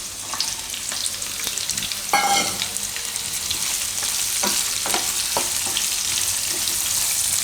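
Carrots frying in hot oil for a Gujarati carrot and mung bean pulao, a dense, steady close sizzle with occasional spoon clinks and stirring scrapes throughout.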